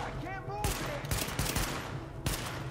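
Automatic gunfire in The Division, sustained bursts of rapid shots with sharp repeated cracks, loud and close, mixed with other game sounds and a voice talking.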